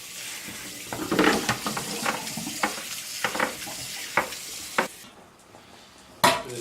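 Food cooking in a pan, with a steady sizzle broken by repeated clinks and scrapes of stirring, close and fairly loud, no voices.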